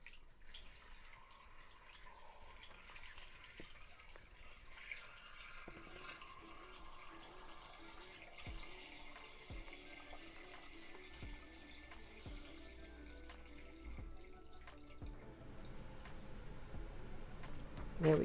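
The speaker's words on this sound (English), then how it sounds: "And I just pour in some water." Water pouring from a tap into an Instant Pot for pressure canning, a faint steady stream with small splashes and a few light knocks against the pot.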